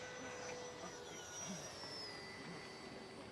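The electric motor and propeller of a Durafly EFXtra Bush Racer RC airplane fitted with an 8x6 prop whine steadily at a distance in flight, a thin sustained drone whose pitch shifts slightly.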